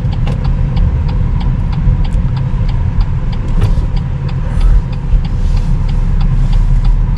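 BMW X1 car driving through Tallinn, a steady engine and road rumble heard from inside the cabin, continuous and fairly loud with no talk.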